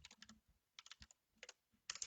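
Names being typed on a computer keyboard, with quick bursts of clicky keystrokes separated by short pauses, close and fairly quiet, no talking.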